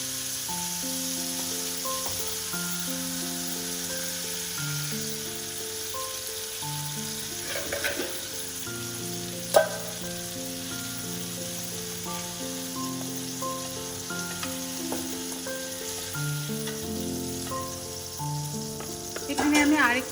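Prawns frying in a pan of mustard oil give a steady, close sizzle that runs the whole time, with a few utensil clinks, over background music and no speech.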